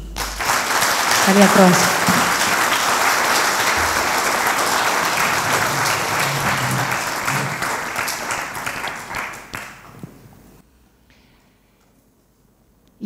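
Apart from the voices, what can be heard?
audience applause at concert in church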